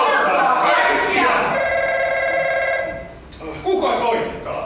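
An old-style telephone bell rings in a steady, continuous peal for a couple of seconds, loud and close, with voices talking over the start and again after it stops.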